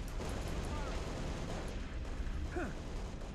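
Plasma grenade explosions go off in the video game Halo: Reach, a dense, continuous rumble of blasts and battle noise filling the whole stretch, with brief whooshing pops near the end.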